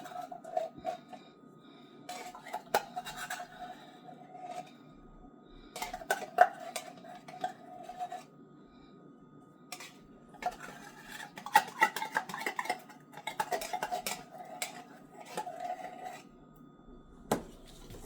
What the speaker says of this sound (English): Let's keep stirring until it comes out.